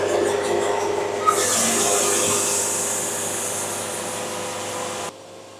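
A hydraulic sawmill blade running steadily through a stressed walnut log, a loud continuous whine and rasp that starts abruptly and holds for several seconds before cutting off near the end.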